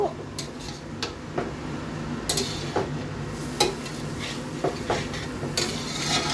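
Spoon stirs a potato and greens curry seasoned with turmeric in a pan, with repeated scraping clinks against the metal over a steady low sizzle.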